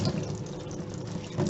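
Tap running while dyed cotton is rinsed, heard as a steady, moderately loud stream of water splashing into a sink.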